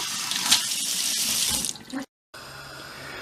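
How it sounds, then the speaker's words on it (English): Hot water runs from a kitchen tap into a sink while hands are washed under it, a loud steady rush for about two seconds, then a brief cut before a quieter, even hiss of flowing water. "wash your hands with hot water."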